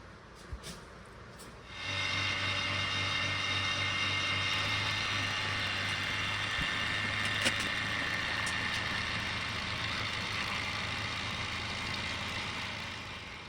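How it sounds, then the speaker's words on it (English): A vacuum chamber pump starts up after a faint knock or two and then runs with a steady low hum, pulling air out of poured resin; the drone stays even and moderately loud to the end. "now I'm going to pop this inside the vacuum chamber. Creating our vacuum,"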